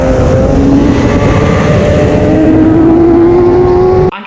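A motorcycle engine at full throttle on the Mugello circuit holds a loud, close, steady high-revving howl with a slowly rising pitch, then cuts off abruptly near the end.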